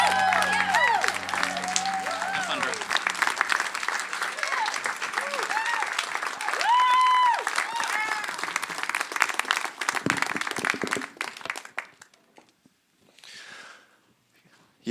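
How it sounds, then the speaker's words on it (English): Church audience applauding in a dense sustained clatter of clapping with some cheering, while musical tones and a voice carry over it. The applause thins and fades out near the end. "can we put our hands together and make some noise as we welcome Tim Hague to the stage?"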